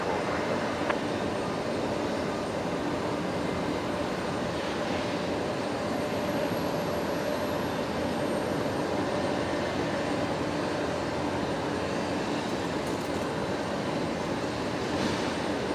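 A plane on approach to runway 01 left at Brisbane Airport, a steady, distant broadband engine roar that holds evenly throughout with no talk over it.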